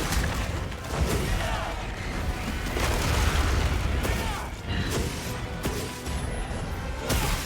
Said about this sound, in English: Lots of explosions with this fella.